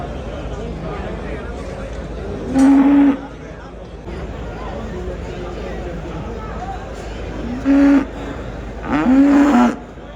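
Cows moo at a livestock fair with cattle competitions: three loud, drawn-out lows, the last one longest, rise over a steady crowd murmur and nearby talking.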